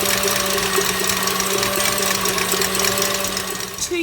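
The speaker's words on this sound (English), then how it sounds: "get those egg whites that were separated from earlier on, from your eggs, put them into your bowl and start whisking" Egg whites being whisked in a bowl for the meringue of a key lime pie; a loud, steady motorized whirring with a constant pitch runs unbroken close by throughout.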